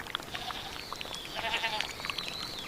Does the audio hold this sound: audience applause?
no